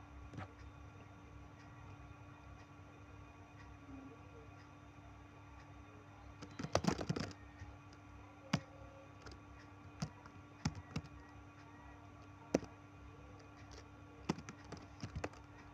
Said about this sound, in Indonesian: ketik lagi